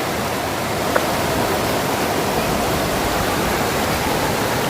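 A large waterfall near a village in Kenya roars close by as a constant, dense rush of falling water with no pauses and no voices.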